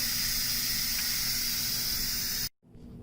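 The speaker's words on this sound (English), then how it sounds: "So I'm going to go ahead and let it vent and do a quick release. This is a quick release of the pressure." A pressure cooker making mac and cheese quick-releases its hot steam in a loud, steady, close hiss that cuts off abruptly, leaving a faint quieter hiss afterward.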